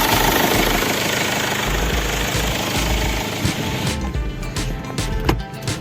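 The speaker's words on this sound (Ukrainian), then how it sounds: "Ми вже завели, двіжок працює." A Land Rover engine runs steadily after being restarted following a breakdown on a rural trip, a loud continuous rumble with rough knocking undertones, close and unbroken, with a few clunks near the end.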